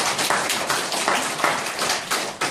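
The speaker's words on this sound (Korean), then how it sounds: "하나님 앞에 영광의 박수 드리겠습니다." A church congregation claps together in dense, steady applause that fills the room without pause, loud and close throughout.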